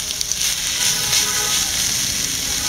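Fried chilli and garlic being stirred into brinjal chutney in a hot vessel, a steady close sizzle with faint scraping throughout, no voices.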